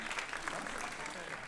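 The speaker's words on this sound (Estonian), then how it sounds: "Ja, aitäh, aplaus muidugi." An audience at a youth theatre performance in Stockholm gives continuous, even applause, a soft distant patter of many hands with no gaps.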